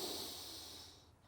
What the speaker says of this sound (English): breathing in and out of your nose.